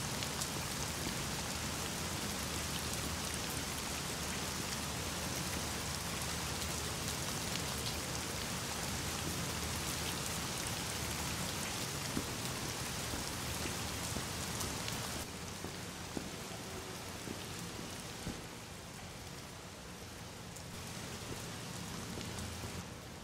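Steady rain falls heavily in The Medium video game, a dense, continuous hiss of drops beating down on surfaces, soft and even with no talk.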